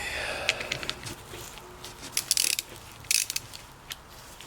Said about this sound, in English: So right now I'm gonna attempt to carefully loosen this bolt without bending or breaking anything.